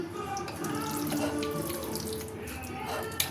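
Water left over from hand-washing is poured into a pan of spicy red loitta fish curry, making a steady splashing stream for a few seconds with a small clink at the end.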